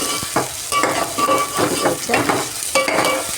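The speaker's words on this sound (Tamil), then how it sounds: "மிளகா, பச்சை மிளகா, மல்லி, புதினா எல்லாம் போட்டு அதுவும் பச்சை வாசனை போகும் வரைக்கும் கொஞ்சம் ஃப்ரை பண்ணி எல்லாம் வதக்கினே இருக்கும்" Chillies, green chillies, coriander and mint sautéing and frying in a pan, with bursts of sizzling and stirring scrapes in an irregular rhythm, close and fairly loud, with a brief spoken word.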